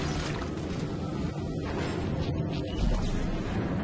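A dense, rumbling blast of noise with a deep low-end roar, sustained and loud throughout, an explosion in Dead Space 2.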